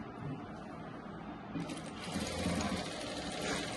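A sewing machine stitching a Rajputi kurti, a steady low mechanical whir that runs throughout and grows slightly louder halfway through, close by with no talking.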